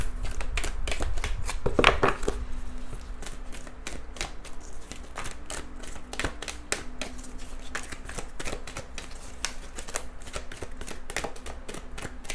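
Tarot cards shuffled repeatedly at close range, a steady run of crisp riffling clicks and flutters with no talking.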